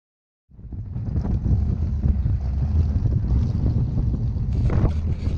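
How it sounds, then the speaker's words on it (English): Loud, steady engine roar from a Witchcraft jet boat with a big-block Chevy and 871 blower, heavy low rumble with wind buffeting, starting abruptly after a brief silence and holding constant, at Camp Far West. "this is my buddy's Witchcraft jet boat. It's got a big block Chevy with an 871 blower"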